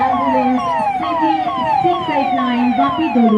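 Ambulance siren wailing in a steady repeating sweep during a Republic Day district parade procession, loud and close, cycling roughly every half second throughout.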